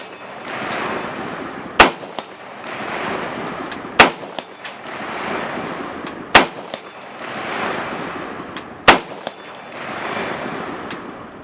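A Romanian CGR AK-47 rifle fired at steel targets 100 yards out, with four loud sharp shots spaced about two seconds apart, each followed by a rolling echo across an open range.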